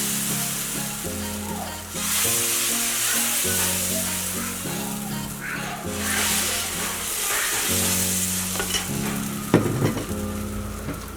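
Rava dosa batter hitting a hot tawa and sizzling loudly and continuously, a close, bright hiss that holds steady with a few small clatters, under a faint tonal background hum.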